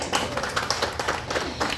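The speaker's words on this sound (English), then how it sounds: "so you can clap for me." An audience at a reception in a park claps briefly in a quick burst of scattered, moderately close applause.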